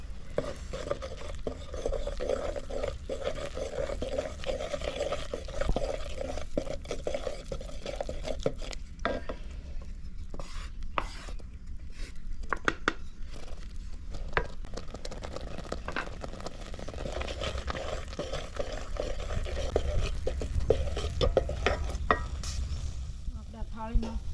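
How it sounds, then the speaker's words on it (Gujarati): A dhokli flour mixture being stirred in a pot, a continuous close scraping and stirring over a soft sizzle, with quiet talk in the background now and then. "આપણે હલાવી નાખી જરાક"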